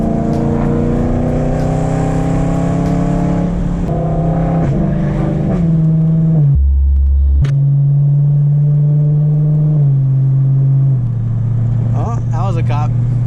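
A loud BMW E92 M3 with straight pipes idles and revs with a deep rumbling exhaust, rising and dropping in pitch over several seconds, close up.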